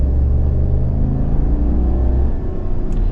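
A 2021 GMC Yukon Denali XL with a naturally aspirated 6.2-litre V8 accelerating: a loud, deep, steady engine drone with a rising rumble from inside the cabin, continuous throughout, no talk.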